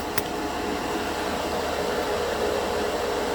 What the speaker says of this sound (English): Turn off the compressor.